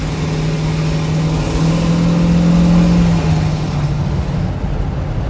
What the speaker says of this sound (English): I'm gonna give it some gas. Put to the floor right now.